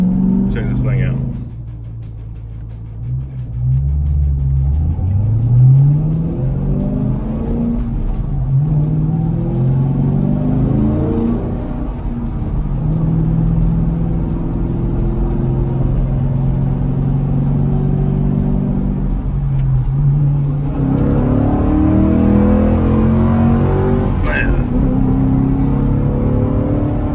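A Ford Mustang GT's V8 engine rumbles and revs while driving, rising and falling through several acceleration pulls with a steady low drone between them, close and loud throughout.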